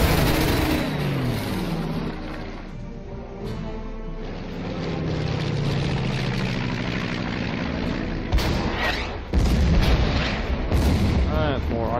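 Artillery fire booms and rumbles through the World War II strategy game Order of Battle: Blitzkrieg around Warsaw, a steady dense barrage with sharper blasts near the end, while someone talks over it throughout.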